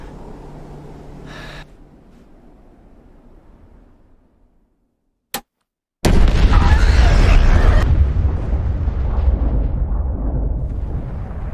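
A handheld bomb detonates in a film scene. A sharp gasp and a low hush fall into near silence and a brief click, then a sudden, loud, deep blast rolls into a long, rumbling roar.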